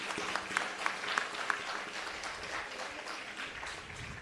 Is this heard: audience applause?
yes